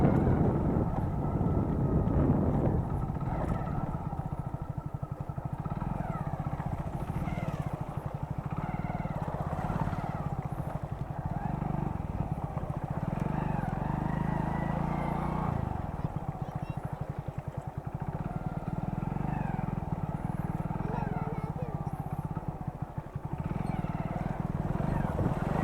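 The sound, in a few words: motorcycle riding through water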